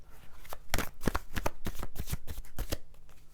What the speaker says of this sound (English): I'm just going to take some Chuck Spezzano love cards in case this is a love situation for you